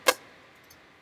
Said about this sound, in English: I guess you could call it the autofocus noise